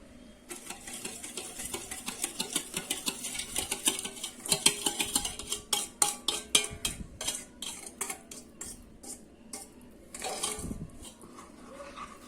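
Gram flour Mysore pak mixture gets stirred in a pan, a quiet run of rapid metallic ticks and scrapes against the metal that bunch densely in the middle, then thin out with a brief louder scrape near the end.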